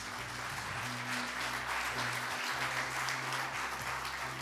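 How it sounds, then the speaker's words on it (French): A church congregation applauds during a Sunday service, steady clapping from many hands filling the room throughout, loud and continuous with no voices on top. "J'aimerais qu'on puisse applaudir Céline et toute l'équipe là qui sont là."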